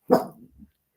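One close dog bark, a pet indoors, with a brief softer grumble trailing after it, standing alone with no voices.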